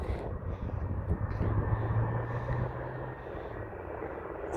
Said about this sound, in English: we have another airplane.